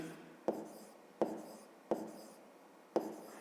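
Four quiet, evenly spaced scratching strokes of writing on paper during a maths exercise, each a short sharp tap that fades quickly, close and faint with no talking.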